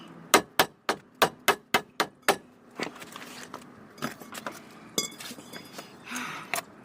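A rapid series of about eight sharp metallic hammer blows driving a rear axle bearing into the axle housing of a Chevrolet Blazer or S10, evenly spaced, then softer irregular clanks and taps of metal on metal.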